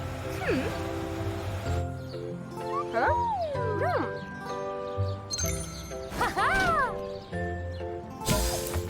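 Several cat meows, some rising and falling in pitch, mixed with a faint jingle and background music-like tones.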